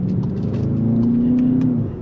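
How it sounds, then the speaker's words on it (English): Engine and exhaust of a 2025 VW Jetta GLI sport sedan, partly real and partly piped-in simulated sound, heard as a steady low drone with a rising tone under cabin noise, no talking. "there is a mixture of simulated pumped-in sound along with the real sound of the engine and the exhaust"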